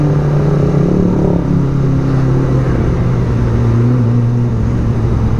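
Close, loud engine of a Kawasaki ZX-25R motorcycle holding a steady high-pitched drone, the revs climbing slightly and then settling, with no voices heard.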